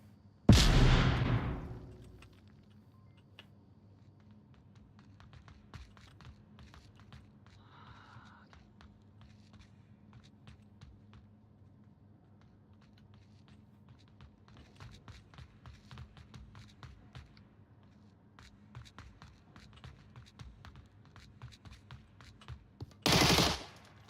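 Gunfire in the VR shooter game Onward during a competitive tournament match. A loud burst opens, then scattered faint distant shots and footstep-like taps follow, and a second loud burst lands near the end.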